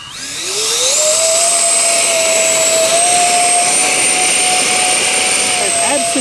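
An XFly C-17 Globemaster model jet with four EDF fans spools up into a loud, steady, rising whine with a high-pitched tone, holding close and constant throughout.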